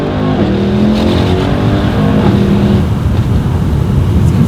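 A Mercedes-AMG E63 S, 2019/2020 model, accelerates hard in second gear with its windows down, and its engine gives a loud, continuous roar that climbs in pitch and fills the whole clip with no talking.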